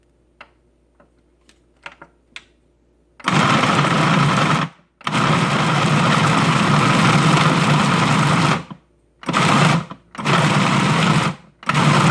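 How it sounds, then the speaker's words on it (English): A food processor chops blanched beef shank in short pulses, a few faint clicks first, then loud whirring bursts of varying length separated by brief pauses, close up and with no speech. "next we want to go ahead and put this into a food processor"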